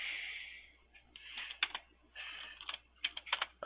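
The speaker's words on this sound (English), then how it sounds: "You type in FCK Editor and click Search." Keys on a computer keyboard tap in short quick clusters with small pauses between, fairly faint and close, with no one speaking.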